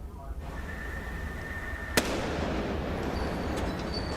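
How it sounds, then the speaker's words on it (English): A suspicious device found in New Jersey explodes unintentionally at night with a single sharp, loud blast, followed by a sustained rumbling wash of noise and faint tones. "the device you just saw there exploded unintentionally"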